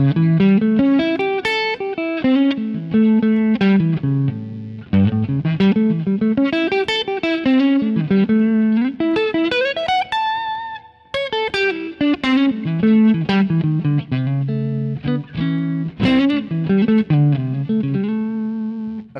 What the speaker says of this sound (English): now I'm going to play an arpeggio, just so you can hear the sound of it